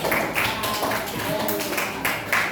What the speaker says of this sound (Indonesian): dulu saya tepuk tangan dulu buat yang mengerjakan